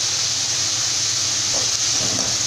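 Onions sizzle and fry in hot oil for a paniyaram batter mix, a steady loud hiss that holds throughout with a faint stir near the end.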